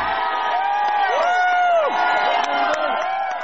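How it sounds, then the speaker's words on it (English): A crowd of hundreds of supporters cheers and whoops along the streets during Republican Senator Scott Brown's campaign bus tour, a loud continuous roar with rising shouts and whistles throughout. "Hundreds of cheering supporters line the streets throughout Republican Senator Scott Brown's bus tour today."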